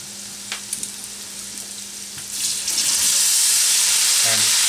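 Red wine poured into a hot pan of salt and pepper beef sets off a loud, rising sizzle that swells midway and holds steady to the end, with a brief clink near the close.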